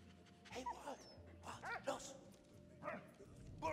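A dog in the First World War video game Valiant Hearts: The Great War gives a few short yips and barks, fairly faint, amid game sounds and light background tones.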